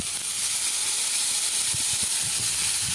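Ginger and chili paste with mustard and poppy seed paste sizzles in a hot pan after a splash of water, a steady close hiss with faint low bubbling while cooking Kashmiri aloo dum.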